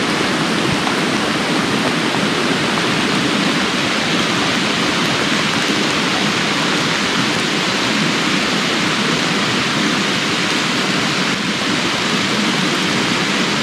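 Heavy rain pours steadily during a thunderstorm on the Black Forest Trail, a loud, dense, continuous hiss surrounding the listener with no pauses and no voices.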